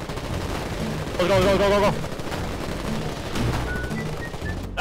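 Bursts of rapid gunfire and single shots crack out during a beach landing battle in the Foxhole video game, with players shouting over the shooting.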